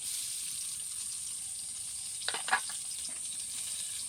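Onions and green chilies frying in mustard oil in a wok; a faint steady sizzle runs throughout, and a brief cluster of sharper crackles and a clink sits near the middle.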